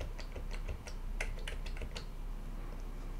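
Computer keyboard keys are tapped in a quick irregular run of light, close clicks, about a dozen presses clustered in the first two seconds before fading to quiet room tone; no one speaks.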